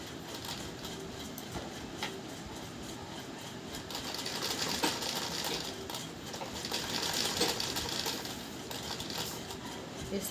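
Sewing machine stitching piping onto a curved blouse back, a steady, fairly quiet mechanical whir with rapid needle rhythm running continuously with no talk.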